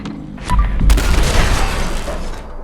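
A Broadsider cannon fires in Fallout 4, striking an Assaultron robot: a short click, then a loud, deep blast with a rumbling tail that rolls on and fades over a couple of seconds, close and alone.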